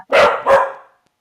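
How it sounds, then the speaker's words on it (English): A pet dog barks twice in quick succession, loud and close, each bark sharp and then trailing off into quiet. "That's my dog now barking."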